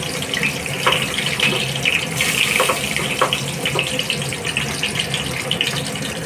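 Chopped onions dropped into about three tablespoons of hot oil in a kadai, a dense steady sizzle and crackle filling the whole stretch with a few sharper pops, loud and close with no talking.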